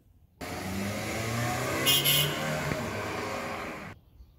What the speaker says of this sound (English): Did you hear that Mr. Otis will be driving past our houses